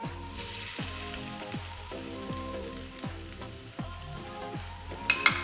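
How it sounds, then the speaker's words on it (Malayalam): Grated coconut fries in coconut oil with a steady close sizzle and hiss. A rhythmic droning hum repeats underneath, and a couple of sharp clinks come near the end. No one talks. "കുറച്ച് വെളിച്ചെണ്ണ ഒഴിച്ചിട്ടുണ്ട് അപ്പോൾ നമുക്ക് തേങ്ങ വറക്കാൻ ഇതിലേക്ക് ഇട്ട് കൊടുക്കാം"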